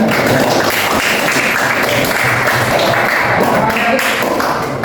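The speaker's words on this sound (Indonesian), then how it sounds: "Tepuk tangan." Audience applause in a teacher-training classroom session, a steady dense wash of clapping hands that runs through the whole stretch at a constant level, close and fairly loud, with no talking over it.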